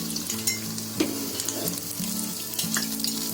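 Medu vada fry in hot oil, a constant close sizzle and bubbling with occasional stirring clinks from a slotted spoon, with no talking.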